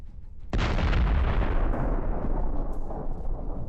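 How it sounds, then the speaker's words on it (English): A huge ammunition detonation set off by a drone strike on a Russian radar station and S-300 air defense system: after a quiet opening, one sudden massive blast erupts into a sustained, deep rumbling roar that slowly fades. "the ignition of the ammunition led to an impressive detonation"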